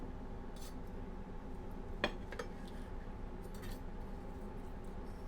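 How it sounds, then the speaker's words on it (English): A knife slices into a seared prime ribeye steak on a plate, giving a brief metallic scrape and clink against the dish amid a steady background hum, outdoors in South Florida heat. "let's just cut into this steak and see how we did"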